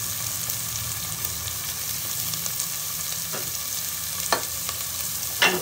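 Onions frying in a pan for Tamil egg curry (muttai kulambu), a continuous close sizzle with occasional sharp clicks and scrapes of stirring toward the end.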